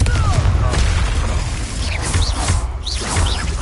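Confringo fire-blast spells exploding during combat in the video game Hogwarts Legacy, producing loud, dense bursts of booming crashes and whooshes that follow one another without pause.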